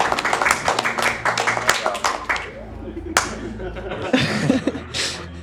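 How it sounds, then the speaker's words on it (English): An audience at a Super Metroid map randomizer speedrun race event claps in loose, sparse bursts, with some chuckles and voices mixed in around the claps. "That's quite the clapping."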